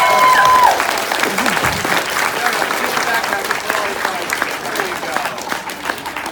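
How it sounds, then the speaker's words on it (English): Loud, dense applause from a crowd at a fan expo panel for Red Dead Redemption 2 in Toronto, a steady wash of clapping that fills the whole stretch and slowly thins, with a voice briefly heard over it. "Give her a round of applause."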